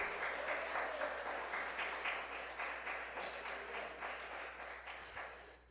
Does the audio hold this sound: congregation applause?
yes